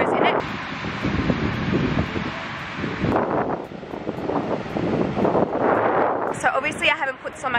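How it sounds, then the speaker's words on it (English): Strong coastal wind buffets a camera's built-in microphone, a constant loud roar with gusty rises and falls, while a person speaks faintly underneath. "usually that's quite windy, like the coast wind, and we'll see how the audio goes in the wind"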